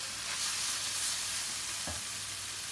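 Spices stirred into a sizzling hunter sauce in a pan, a continuous bright sizzle with one short scraping stir of a utensil near the end, close and alone.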